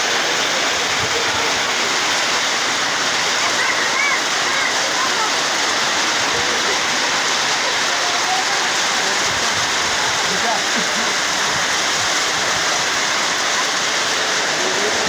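Heavy rain pours steadily outside a roadside tea shop, a dense, loud, continuous hiss and patter with no break throughout.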